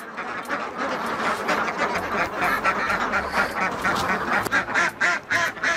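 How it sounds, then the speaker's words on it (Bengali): Khaki Campbell ducks on a farm quack continuously as a busy, overlapping flock, loud and close, with repeated nasal calls throughout and no talk. "এখানে অনেকগুলাই হাঁস,"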